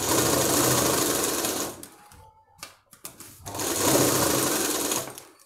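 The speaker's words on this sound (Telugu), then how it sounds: "మన లైనింగ్ అనేది మనం జరిపి ఇలా మనం కుట్టుకోవాలి" A sewing machine stitches the lining of a blouse back, a loud, fast mechanical whir that runs, stops briefly with a few clicks of handling, then runs again.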